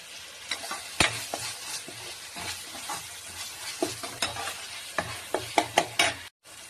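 Ginger garlic paste and fresh curry leaves fry in oil for a village-style boti curry, a steady sizzle broken by repeated sharp scraping and stirring clicks, with no talking.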